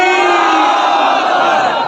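A large crowd at an Islamic religious gathering roars back a slogan in unison, a loud sustained massed shout that swells briefly and then holds, very close and full.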